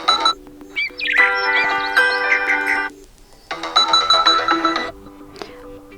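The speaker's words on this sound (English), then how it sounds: "Then select alarm tone. Pick one of those by tapping on the best one." Alarm tones play on a Nubia Z60 Ultra phone, bright electronic melodic chimes in two loud bursts with a short gap between them, then a brief faint note, with no talk.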